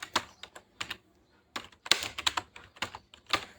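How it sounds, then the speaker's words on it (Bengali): Short bursts of typing on a computer keyboard while entering a search, clustered irregular key clicks with brief pauses between words, close and clear with no voices. "গুগলে গিয়ে আমি এখানে সার্কেল ডিজাইন লিখবো"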